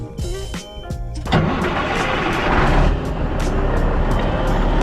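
A grain truck engine on a farm during corn harvest cranks and fires up, then settles into a loud, steady rumbling idle close by, with brief clicks and rustling before the start.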